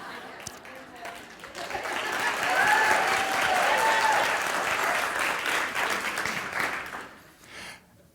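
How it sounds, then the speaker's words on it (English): A live audience at a meditation center applauds warmly for several seconds, the clapping swelling and holding steady before tapering off, with some voices mixed into the crowd. "You ought to clap for her."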